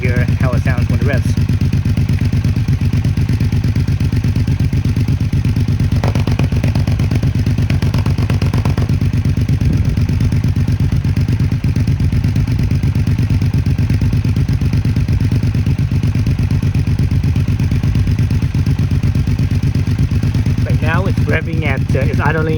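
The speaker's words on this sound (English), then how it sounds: "Now you can hear it idle down a little bit." A Triumph Speed Twin motorcycle fitted with a TEC single-side exhaust idles steadily up close, its low, even engine rumble continuous throughout, with a few brief mechanical clatters near the start and end.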